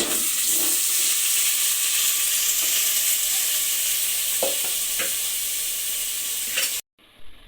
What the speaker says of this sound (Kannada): ಈರುಳ್ಳಿ ಎಲ್ಲ ಕೆಂಪಗಾದ್ಮೇಲೆ ತೊಳೆದಿರೋ ಚಿಕನ್ನ ಹಾಕ್ಕೊಳ್ಳಿ